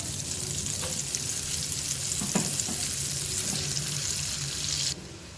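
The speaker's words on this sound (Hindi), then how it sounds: "अब इसके अंदर प्याज शामिल करेंगे।" Chopped onions sizzle steadily in a hot pan for a creamy white sauce pasta, with a few soft utensil taps over a constant frying hiss that cuts off near the end.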